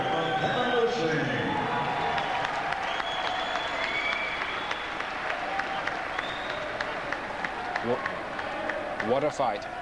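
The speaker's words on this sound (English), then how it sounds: "a round of applause for a great game effort from Kevin Lueshing" A boxing arena crowd applauds and cheers after a British welterweight title fight, a broad sustained roar of clapping under a commentator's voice.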